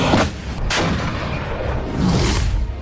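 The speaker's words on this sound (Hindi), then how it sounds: "एक टैंक, एक फायर" A tank cannon fires in a short burst of heavy booms, with at least two sharp blasts in under three seconds over a loud, rumbling background and no voices.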